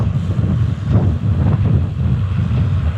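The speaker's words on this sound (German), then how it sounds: "Wenn man dann steht, dann merkt man doch, dass es noch ganz schön windig ist." Strong wind buffets the microphone outdoors while a cyclist stands still during a stop on a 200 km audax brevet, a steady low roaring rush with gusts and no talk.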